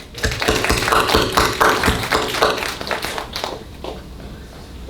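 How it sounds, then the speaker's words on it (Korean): A church congregation claps together in a brisk, steady burst of loud hand claps that tapers off toward the end, with a few voices underneath. "그 하나님 앞에 영광의 박수"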